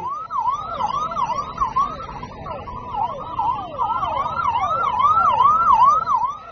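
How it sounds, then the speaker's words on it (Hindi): A wailing police siren (hooter) on the vehicle carrying Kejriwal to jail, a loud, steady rising-and-falling cycle with no voices over it. "केजरीवाल को जेल ले जाती पुलिसिया गाड़ी के हूटर की आवाज"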